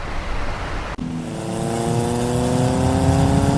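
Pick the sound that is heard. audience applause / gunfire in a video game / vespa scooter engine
vespa scooter engine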